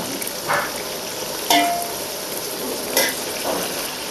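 Onions frying in ghee for chicken biryani give a loud, steady sizzle close up, broken by a few sharp clinks and scrapes of stirring in the pan, with no one talking.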